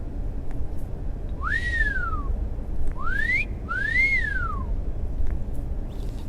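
A person whistles three short rising-and-falling tones in a row, clear and fairly close, over quiet background noise with no talking.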